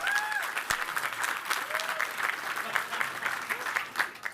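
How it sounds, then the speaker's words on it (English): Dense audience applause at a South Carolina governor's race primary victory speech, a steady wash of many hands clapping, moderately loud with a few cheers and voices mixed in. "I would encourage you to applaud her."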